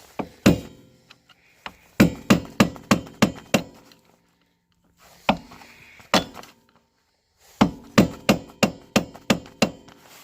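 Hammer blows on the rear wheel hub of a 2001–2005 Honda Civic during a wheel bearing change, loud close metallic whacks struck in rapid bursts of about six to eight with short quiet gaps between, no speech.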